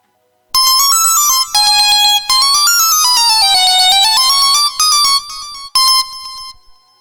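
Bright synthesizer tones from a VST software instrument play a melodic phrase of bell-like notes in several bursts with short gaps between them, loud and clear with no talking.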